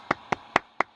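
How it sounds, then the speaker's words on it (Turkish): Four or five sharp, evenly spaced hand claps ring out close by in a quiet room, each one crisp and brief with short gaps between them. "Alkışlayalım."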